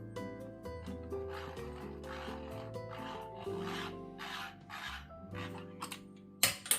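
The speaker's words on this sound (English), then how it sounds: "the Burr has a little bit of touching still at number 4" Stainless steel burr hand grinder with its burrs lightly touching at setting 4, giving a rhythmic scraping rasp in repeated strokes, close and fairly quiet, with no voices.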